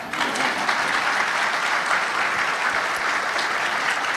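Steady, dense audience applause at a panel talk, loud and continuous throughout with no talking over it.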